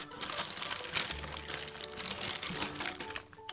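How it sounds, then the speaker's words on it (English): Plastic packaging around a vintage Baby Born doll crinkles and crackles during unboxing, in quiet, busy bursts of rustling that run steadily for a few seconds. "let's free her from all this plastic"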